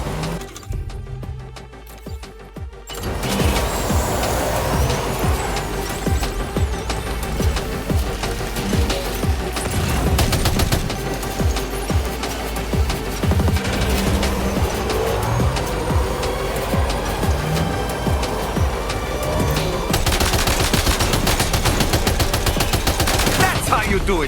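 Dense, continuous gunfire mixed with a driving vehicle's engine in Death Stranding 2, loud and sustained for most of the stretch after a quieter opening, with rapid sharp bursts layered over rumbling motion.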